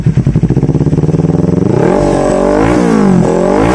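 A Kawasaki Ninja 400 fitted with an Akrapovic slip-on muffler idles with a rapid pulsing beat, then revs up in rising and falling surges, loud and close with no talking.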